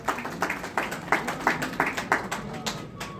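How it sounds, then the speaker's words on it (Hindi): Clapping rings out at a school literacy programme ceremony during a garlanding welcome, the claps landing in a fairly regular, evenly spaced rhythm at close range. "जोरदार तालियों की गड़गड़ाहट।"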